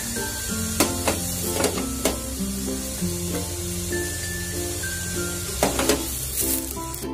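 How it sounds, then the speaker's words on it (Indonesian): Garlic and shallots sizzle and hiss as they sauté in water in a hot pan, with occasional scraping clinks of stirring and faint background tones, no talking. "Jadi ini menumis menggunakan air."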